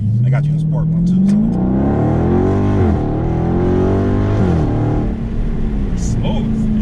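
A Dodge Charger Scat Pack engine in sport mode revs and accelerates from inside the cabin, a loud, deep rising drone that climbs, dips with a gear change, then climbs again and settles.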